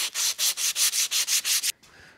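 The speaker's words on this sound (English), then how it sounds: "I'm gonna go ahead and just run some fine emery cloth over it just to polish it up a little bit more" A metal part from a bus being polished by hand with fine emery cloth, nine quick, even rasping strokes close up in steady rhythm, then stopping into near quiet.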